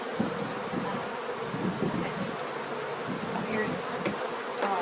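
Dense buzzing of honey bees around hive frames on a honey farm, loud and continuous, close up with no talk.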